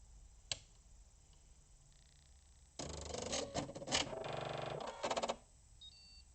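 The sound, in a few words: sewing machine stitching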